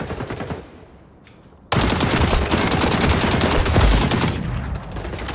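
AK rifle in a video game firing a long sustained automatic burst, loud and rapid. It starts abruptly after a quieter stretch with a few faint distant shots and ends with a brief trailing decay.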